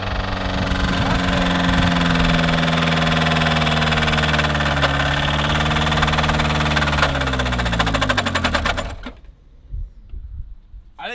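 An engine running on wall paint instead of motor oil roars at full throttle, its pitch wavering, then shudders and dies abruptly, leaving a few clunks and near silence.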